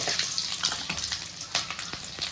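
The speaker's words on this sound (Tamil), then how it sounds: "அதே எண்ணெயில் கொஞ்சமாக கடுகு போட்டுக்கலாங்க." Mustard seeds, urad dal and shallots fry in hot oil, a close, continuous crackling sizzle with dense popping.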